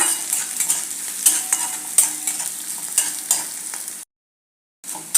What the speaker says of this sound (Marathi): कांदा इथे व्यवस्थित भाजला आहे, डाळही त्याच्याबरोबर परतली गेली आहे